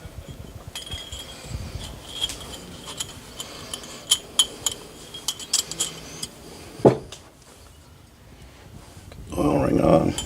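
Metal piston rings are worked onto an engine piston during assembly with Total Seal Quick Seat and AL8 lube, giving a string of small close clinks and metallic ticks, with one sharper clack near the middle and a louder rustle toward the end.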